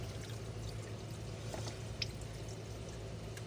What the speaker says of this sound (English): Probably should have drained the coolant before we did this.